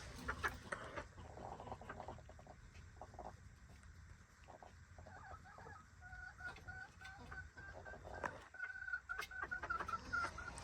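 Several sick Plymouth Rock chickens cluck and call in a busy coop, with a few sharper squawks and a rooster-like call rising above the steady flock chatter.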